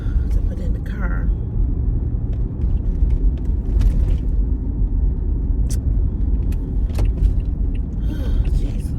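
A car drives along on the way to a gas station, a low steady engine and road rumble filling the cabin, with a person talking over it and a few faint clicks and rattles.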